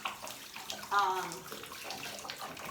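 Running water pours and splashes steadily while a dog is rinsed during a bath, with a brief louder gush partway through, close and moderately quiet.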